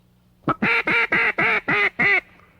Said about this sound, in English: These birds are real ducks